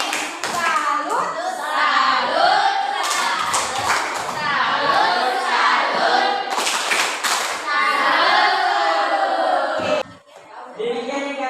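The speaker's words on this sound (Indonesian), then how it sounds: "beri tepuk tangan dulu" A classroom group claps together during a teacher's practical teaching exam, with dense overlapping claps for about ten seconds and children's voices mixed in, then a brief dip before the clapping resumes.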